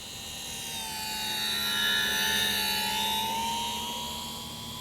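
Avios Twin Otter 1600mm scale twin-engine STOL RC plane on floats, flying slowly with flaps down in calm evening air: a steady whine from its twin electric motors swells as it passes near, then fades, with no talking.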